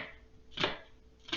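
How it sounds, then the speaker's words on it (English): Knife chopping an onion on a cutting board: two crisp, close chops about three-quarters of a second apart, quiet and without talk. "So you get some knife skills here on how to chop things, and then just cut it there."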